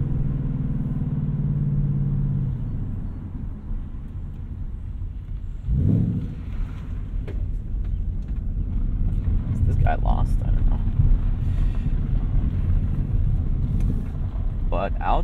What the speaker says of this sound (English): an active valve exhaust, so right now it's on the most loud configuration, most open